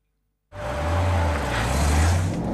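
An American Corvette engine starts abruptly after a moment of silence into a loud, deep, steady rumble that holds close and strong to the end.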